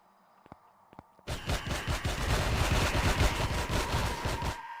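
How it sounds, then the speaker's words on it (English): Ship guns in the Empyrion: Galactic Survival video game open up after a few quiet clicks, unleashing a loud, dense, continuous barrage of rapid gunfire that rolls on for several seconds before cutting off. "The ship guns are shooting at something."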